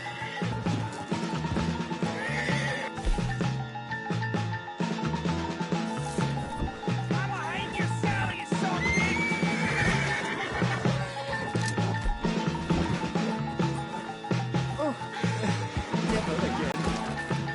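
A horse whinnies in Red Dead Redemption 2 during a shootout escape from camp, with hooves clopping. It sits within a dense, loud mix of game music and effects, and a voice talks over it.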